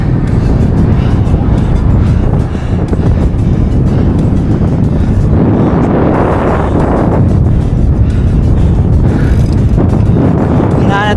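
Strong wind batters the microphone during road bike training on a Trek Madone SL 6 Gen 8, producing a loud, continuous low rumble and roar that swells and eases without a break.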